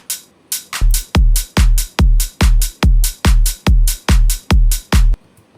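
A punchy electronic kick drum from an electronic track hits in a steady four-on-the-floor pattern, about a dozen loud, close, evenly spaced thumps, alone and without voices.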